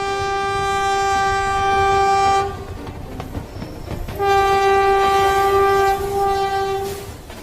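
A train horn sounds in two long, loud, steady blasts with a short gap between them as a train pulls into a railway station, with rumbling rail noise underneath.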